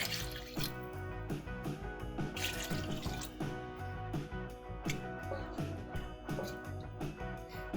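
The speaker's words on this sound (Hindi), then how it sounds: "अब मैं इसके अंदर 2 से 3 ग्लास पानी ऐड करूंगी" Water poured from glasses into a pot of chicken nihari gravy, a steady liquid splashing and trickling sound that keeps going throughout, with no talking.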